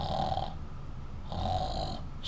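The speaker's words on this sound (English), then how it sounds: "Snored the royal guards." Royal guards snore in a storybook sound effect: two slow, rhythmic snores with a pause between, close and clear, with no talking over them.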